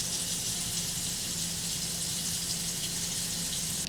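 Hot water runs from a tap in an RV on shore power, a steady broadband rush that holds even and close for about four seconds with a faint low hum underneath.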